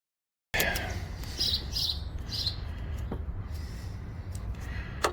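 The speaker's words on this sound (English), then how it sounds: "Sparrows are angry with me." Sparrows chirp from nests close by outdoors, a scatter of bright, short tweets over a low steady background rumble, with no talking.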